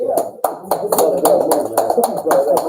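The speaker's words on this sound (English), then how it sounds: "give a round of applause on that" An audience applauds at a public appearance by a state representative. Several rapid, uneven claps rise over a steady murmur of voices, with people talking throughout.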